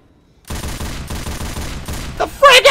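Gunfire in the zombie shooter Left 4 Dead 2: a sustained rapid burst of shots starting abruptly after a quiet moment, loud and close, followed by a raised voice at the end.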